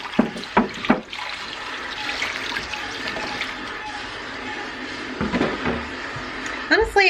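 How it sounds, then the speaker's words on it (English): Filtered water pours into a pot of chicken carcass, carrots and celery for stock. The splashing, gushing flow is close and fairly loud, with knocks and clatter at the start and end, and a voice speaks over it. "This is just filtered water."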